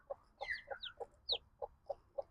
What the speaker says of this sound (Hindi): मगर ये चूज़े आवाज़ कर रहे हैं